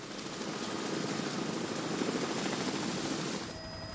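A helicopter's steady rotor roar and engine whine fill the air, loud and constant, easing slightly near the end.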